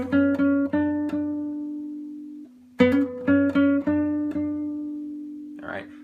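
A nylon-string guitar plays the closing phrase of the melody, a run of repeated plucked notes in two short bursts separated by a ringing pause, ending with a faint scrape.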